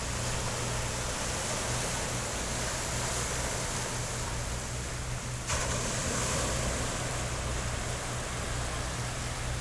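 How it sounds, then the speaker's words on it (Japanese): Loud ocean surf rolls in steadily at Yunagi Park on the Hibikinada coast, a continuous broad roar mixed with some wind buffeting on the microphone. "なんか波の音がすごい大きいです。"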